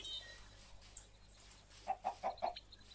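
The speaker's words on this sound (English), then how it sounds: "Hey, more chickens." Chickens in the Minecraft Minecolonies world cluck in a short burst of four quick clucks near the end, faint and alone over a quiet game backdrop.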